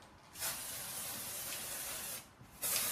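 Luster spray misted from a can onto buttercream flowers: two sustained close hissing bursts, the first lasting nearly two seconds, a brief pause, then a second burst starting, with no voices.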